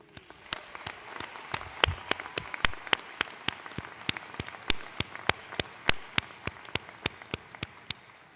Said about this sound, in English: Let us join together to applaud and thank your loved ones